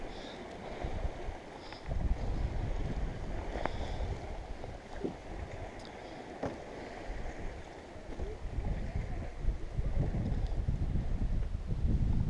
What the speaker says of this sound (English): So yeah, let's ride the waves.